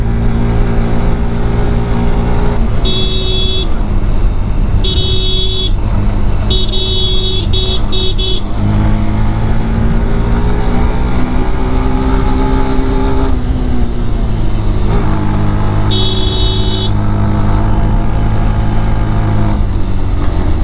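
A motorcycle climbs a steep hill road toward Keokradong in third gear, its engine droning loud and steady throughout, with repeated short high electronic beeps cutting in and out over the engine.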